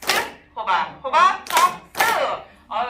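Hands clap in short bursts during the Korean vegetable clapping game, which begins with potato. Voices chant the vegetable names along with the claps in a quick, uneven rhythm, close and fairly loud.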